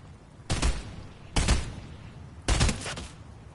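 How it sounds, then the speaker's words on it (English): Three separate bursts of gunfire in Fortnite, evenly spaced about a second apart, fairly quiet and distant with no talk over them. "I'm trying to shoot at him."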